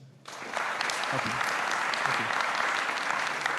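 After a brief hush, an audience at a French media cooperative launch breaks into steady, fairly distant applause that continues evenly to the end.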